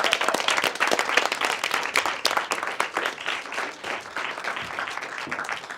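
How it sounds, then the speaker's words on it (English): An audience at a comedy magic show applauds a volunteer, a lively burst of clapping from a roomful of people, close and loud, swelling and easing slightly over several seconds with no talk. "Everybody give Laura a big round of applause."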